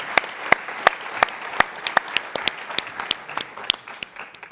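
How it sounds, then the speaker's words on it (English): Applause after a startup pitch on a competition stage: sharp, fairly regular claps stand out over a softer bed of scattered clapping from a modest audience, holding steady for several seconds. "All right, give them a round of applause."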